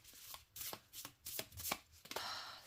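Tarot cards riffle and snap in quick bursts, a close, crisp shuffling repeated several times in a quiet room.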